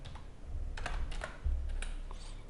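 Someone typing a captcha on a computer keyboard: quick, irregular key clicks, close and moderately loud, with no talking.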